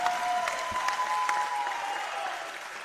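Basketball crowd applauding steadily at a Tamworth Thunderbolts home game during a semi-final against the Hills Hornets, dense clapping filling the hall, with a faint squeak and thud in the background.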